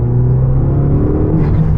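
A Fiat 500 Abarth with a big turbo engine accelerating hard, its steady loud rumble and droning engine note climbing as boost builds, close and continuous with no talk.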